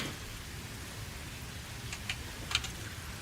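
Heavy rain falling in the video game Satisfactory, a steady broadband hiss with a few brief sharper drop or splash ticks near the end, no voices.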